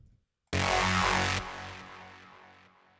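A thick, gritty Reese bass note made in Reason starts abruptly, loud and buzzing, then steps down in brightness and decays through a growling, pulsing tail.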